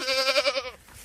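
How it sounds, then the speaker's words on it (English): A single wavering bleat from a pregnant farm goat in winter, close and fairly loud, lasting under a second before fading into quiet. "Just show you the goats."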